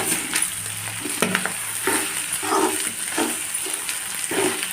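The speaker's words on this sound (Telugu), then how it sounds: "ఇలా వేయించుకుని ఇందులో అల్లం వెల్లుల్లి పేస్ట్ కూడా వేసాం కదండి, కొంచెం బాగా కలుపుకోవాలండి." Goat tripe frying in hot oil with ginger garlic paste, a steady close sizzle broken by repeated scraping stir strokes every second or so, with no talking.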